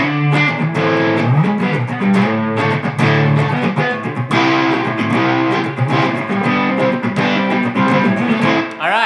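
PRS SE DGT electric guitar played with clean tones, a close, loud run of picked notes and ringing chords moving continuously with a brief break partway, no talking.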